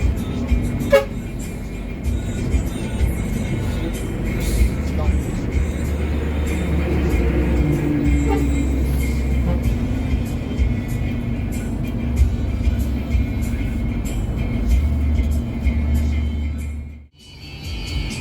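A Medan Jaya bus drives along the road toward Medan, a steady low engine drone and road rumble heard from inside the cabin, with occasional knocks and a brief dip near the end.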